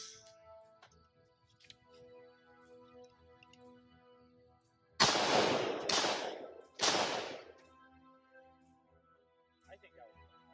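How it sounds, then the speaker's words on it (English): Three sharp, loud rifle reports from a gun fitted with a three-prong flash hider, fired outdoors about a second apart, each cracking out over a quiet background with faint low voices. "I'm going to shoot two more."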